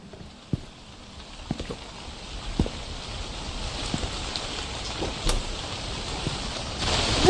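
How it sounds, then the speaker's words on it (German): Rain patters steadily and softly in Chillas Art's The Convenience Store, a Japanese horror game, with scattered sharper drips and taps over the hiss, swelling louder toward the end. "Das ist sehr lauter Regen gerade, ne?"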